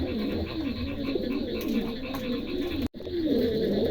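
A pair of trumpeter pigeons, an undulation male and an almond white-top female, coo in deep, rolling, continuous murmurs at close range, with a brief break near the end.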